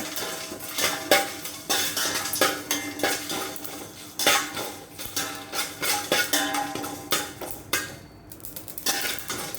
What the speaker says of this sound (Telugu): ఒట్టిమిరపకాయలు చక్కగా వేపుకోవాలి.